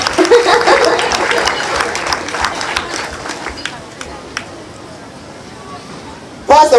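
Applause from a crowd at an adult school graduation ceremony in Kampala, dense and loud at first, thinning to scattered claps and fading, then a fresh burst at the very end.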